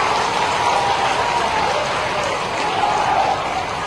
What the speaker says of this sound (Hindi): इसलिए सिंधिया जी के लिए एक बार फिर से ताली बजाओ